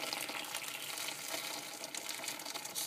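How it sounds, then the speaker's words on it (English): Nearly two litres of water pour steadily from a kettle over chopped courgettes in a pan for courgette soup, giving a continuous, fairly quiet splashing hiss. "I'm going to take the kettle, I'm going to pour nearly all of that 2 litres of water in."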